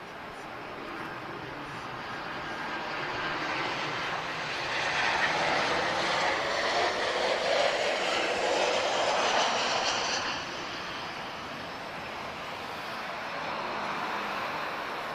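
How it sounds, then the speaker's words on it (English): A Ryanair Boeing 737-800 arrives at Lisbon Airport, its jet engines a broad steady roar that swells through the middle and then eases off, with no talk over it. "This is Ryanair 737-800, arriving from London Stansted, airborne for 2 hours and 20 minutes."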